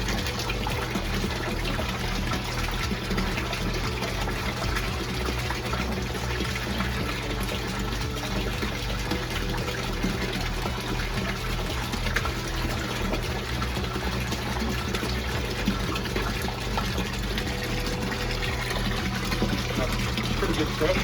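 Water pouring steadily under good pressure into an IBC tote cold plunge, a constant rushing hiss with a low hum beneath, while a person talks over it.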